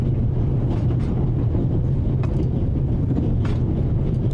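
Steady rumbling and rattling of a train in motion from the video game The Raven: Legacy of a Master Thief, a dense low roar with faint clacks, continuous and unbroken throughout.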